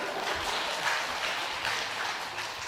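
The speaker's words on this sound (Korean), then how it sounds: "이거는요, 남자분이 칠 게 아니라 여자분이 박수 치셔야 돼요." Audience applause, with the women in a church congregation clapping during a Sunday worship sermon on marriage, a steady dense patter filling the hall without a break.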